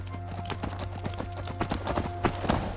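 A horse's hooves clip-clop steadily on the ground in Skyrim, a quick, even rhythm of moderately close hoofbeats with no talk over them.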